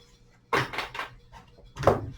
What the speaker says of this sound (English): And another shuffle.